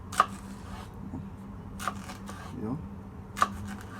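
A knife slicing a bell pepper into sticks on a cutting board, three crisp isolated cuts spaced over a few seconds, with a voice speaking French softly in the background.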